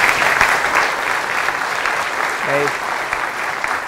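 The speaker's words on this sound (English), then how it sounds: "please give a giant round of applause for Elad" An audience at a tech talk claps for the presenter Elad, a loud, dense burst of applause that holds steady throughout, with a brief voice speaking over it partway through.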